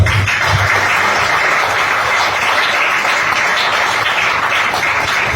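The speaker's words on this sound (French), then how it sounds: "On acclame pour le groupe musical." A church seminar audience applauds a music group, with dense, loud, continuous clapping filling the hall at a steady level throughout.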